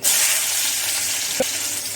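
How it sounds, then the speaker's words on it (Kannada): Onion dropped into hot oil in a home kitchen pan while cooking palak chicken keema, giving a steady, close broadband sizzle throughout with one brief soft tap partway through. "ಫಸ್ಟು ಎಣ್ಣೆ ಹಾಕ್ತೀನಿ ಅಲ್ಲಿಗೆ ಈರುಳ್ಳಿ"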